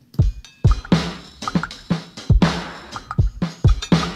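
A punchy drum loop with kick, snare and hi-hat hits in a bouncy, uneven shuffle rhythm, repeating steadily and played alone.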